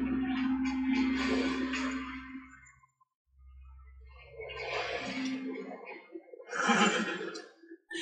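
Horses whinny and neigh in The Last of Us Part II, with several drawn-out, breathy calls rising and falling across the stretch, the last one loud and close, over a low steady background hum.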